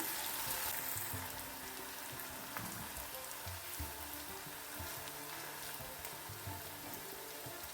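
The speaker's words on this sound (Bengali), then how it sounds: "কাবাবগুলো যখন ফ্রাই করবেন অবশ্যই মিডিয়াম আঁচে ফ্রাই করবেন" Chicken kathi kebabs fry in oil over a medium flame, giving a continuous, even sizzle with fine crackling and occasional soft pops. It sounds close and unbroken, with no talking.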